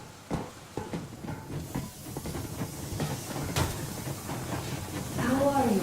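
A Metro Exodus train rumbles along at full steam with steady hiss and clanking, while voices talk over it throughout.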